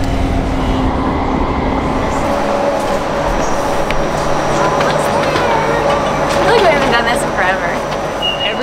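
Copenhagen metro train running from the airport: a steady rumbling ride with rail clatter and faint squeals throughout, and some quiet voices in the carriage.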